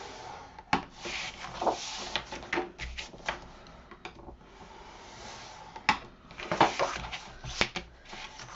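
Paper being scored on a scoring board at 1-inch marks for a frame album, heard as repeated rubbing and scraping strokes, close and moderately quiet, with short sharper taps between passes and no talking.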